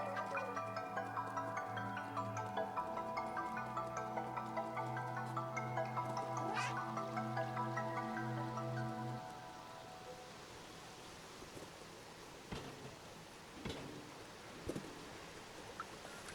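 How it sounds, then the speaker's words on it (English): Ambient falling water and shimmering waterfall sounds in the video game Stray, a steady dense wash with tonal game music layered over it for the first half, then thinning to a quieter bed punctuated by occasional soft drips and splashes. "The soothing sound of trash falling, shimmering waterfalls"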